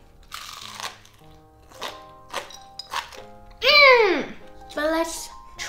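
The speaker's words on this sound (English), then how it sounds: "As you can tell, very crunchy." Crisp crunching bites from a crispy rice sushi waffle, several separate crunches spread across the clip, with a voice chiming in between them.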